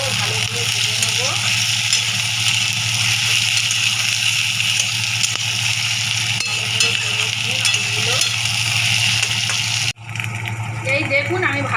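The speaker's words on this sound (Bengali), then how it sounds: "এবারে আমি আলুগুলো দেবো। আলুগুলো ভালো করে ভেজে নেব।" Potatoes frying with browned onion in a pan, a steady close sizzle with occasional stirring, under a constant low hum that cuts off sharply near the end before the frying resumes.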